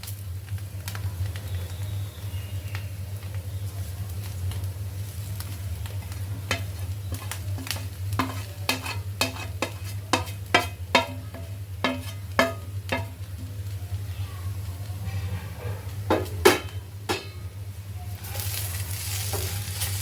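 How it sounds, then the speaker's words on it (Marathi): Onion and coconut sautéed in a pan for a banana flower vegetable dish give a quiet, steady sizzle under a low hum, punctuated by a run of sharp spatula taps and scrapes against the pan. "दोन मिनटासाठी कांदा आणि खोबरं परतायचं आहे"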